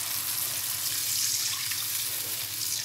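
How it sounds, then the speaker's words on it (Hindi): Roughly a cup of water pours steadily into a pan of Manchurian gravy, a continuous close splashing rush lasting the whole moment with no voices. "तो फ्रेंड्स मैं इसमें 1 कप के करीब पानी ऐड कर दूंगी।"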